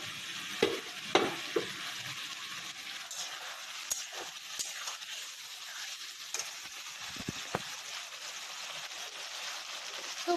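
Masala spices fry in a pan, a steady soft sizzle broken by sharp scraping clicks of a spoon as they are stirred, fairly quiet and close, with no talking.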